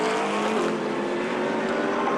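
GT cars race past at a Donington GT Cup meeting, among them Richard Neary's Mercedes, giving one loud, continuous engine roar at close range with no talk.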